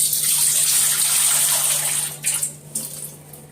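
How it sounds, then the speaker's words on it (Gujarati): Water poured into a large pot, a loud steady close gush and splash that breaks into uneven bursts toward the end, alone without talk. "તો પહેલાં છે ને આની અંદર પાણી એડ કરીશ"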